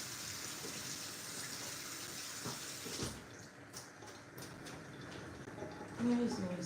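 Cooking water from a pot of yam pours out through a sieve in a home kitchen. It makes a faint, steady gushing hiss that dips briefly midway and then continues.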